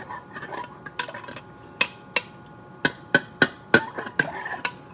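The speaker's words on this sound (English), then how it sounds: "I have to keep on stirring this for 2 minutes" A utensil working a thick mixture in a pot, heard as a series of sharp clinks and knocks against the pot at an uneven rhythm over quiet background scraping.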